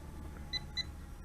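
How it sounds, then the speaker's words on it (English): A RUKO U11 Pro drone gives two quick, clear electronic warning beeps close together over a faint background hiss. "Oh, a couple of beeps."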